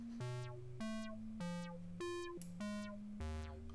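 Arturia ARP 2600-V software synthesizer's sequencer stepping through a pattern of eight notes, bright buzzy synth tones at shifting pitches in a steady, evenly spaced rhythm, heard alone.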